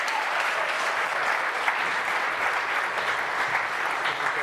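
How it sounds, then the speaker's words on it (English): Audience at a coding bootcamp demo day in Montreal gives the presenters steady, dense applause that fills the whole stretch at an even, fairly loud level with no talk. "Round of applause for these guys."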